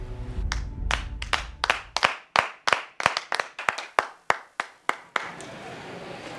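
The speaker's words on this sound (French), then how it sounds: "on doit encore lui accorder un terrible tonnerre d'applaudissements." Claps ring out in a steady, evenly spaced series, about fifteen sharp close strikes, in a live comedy show setting, ending abruptly and followed by quiet room tone.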